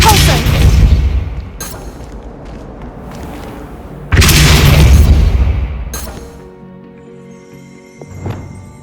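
Depulso force spells blast in Hogwarts Legacy on Xbox Series S: two heavy, booming impacts, each a loud thud that trails into rumbling debris, followed by a quieter stretch and a faint magical shimmer.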